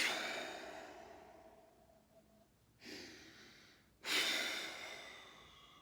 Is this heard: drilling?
no